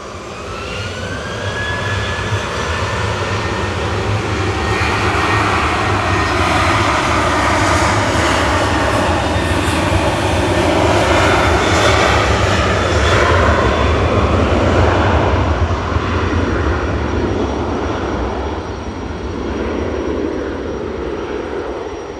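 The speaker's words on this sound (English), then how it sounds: "Here goes Ryanair to Verona." Ryanair jet taking off from Manchester Airport, a loud, sustained engine roar with a rising whine that builds and holds across the whole stretch, then eases slightly near the end.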